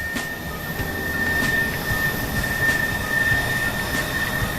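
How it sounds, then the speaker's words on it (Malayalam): A train at Thiruvananthapuram Central railway station, heard as a steady loud rumble of rolling rail cars with a thin, sustained wheel squeal and faint clanks above it. "അവിടെ ആ കാണുന്നതാണ് സെൻട്രൽ റെയിൽവേ സ്റ്റേഷൻ"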